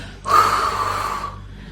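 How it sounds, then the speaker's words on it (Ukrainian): A strong exhale during a breathing exercise, one breathy push of air that rises sharply and then tapers off gradually, close and fairly loud, with no talk over it. "Тепер сильно видихніть"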